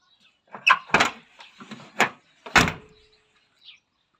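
Original exterior door handle on a 1978 Ford Taunus worked by hand, producing several sharp metallic clicks and clunks of the latch mechanism in quick succession, close and moderately loud, with a faint final tick.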